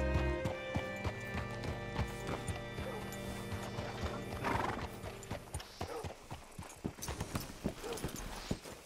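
Horse hooves clip-clop steadily in Red Dead Redemption 2, with several whinnies and neighs rising over the plodding rhythm, fairly close and clear against a game background.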